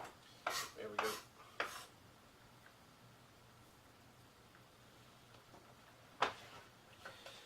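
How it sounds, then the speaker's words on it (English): Chopped boiled carrots scraped off a board into a pot for vegetable ramen soup: a few close scraping and clattering strokes early on, a quiet stretch, then one more sharp scrape near the end. "Scrape it over into the pot."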